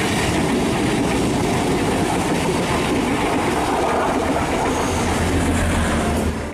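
An Indonesian KRL electric commuter train with a women-only car rumbles past close by, with a loud, continuous roar and rhythmic rattling of wheels on track throughout.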